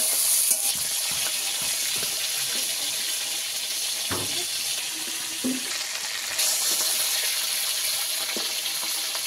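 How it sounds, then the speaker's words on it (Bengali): Pomfret fish frying in a pan, giving a steady, close sizzle through the whole stretch with a few soft stirring and utensil clicks. "মাছগুলো ভালো করে উল্টে পাল্টে লাল লাল করে ভেজে নেব।"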